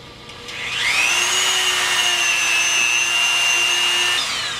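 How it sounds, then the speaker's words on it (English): A Dremel 3000 rotary tool runs with a wire brush and polishing compound, a steady high-pitched motor whine that ramps up in the first second, holds loud and even, then winds down near the end, with no talk. "we're going to try a little bit of the polishing compound on the end of this wire brush and see how it goes"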